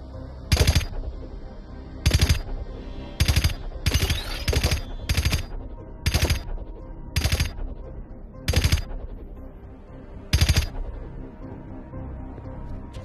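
Nine sharp broadband gunfire bursts ring out at roughly even one-second-plus intervals in the Journey to Foundation VR game, loud and close over a steady low ambient drone, with no voices.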